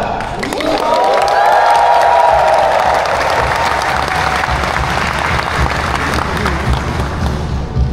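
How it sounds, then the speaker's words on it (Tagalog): Loud, sustained applause with cheering and whoops from a crowd at a company riders rally in a mall, as a Pizza Hut COO is welcomed to the stage; clapping stays dense throughout, peaking early. "palakasan ng palakpak na may kasamang sigawan"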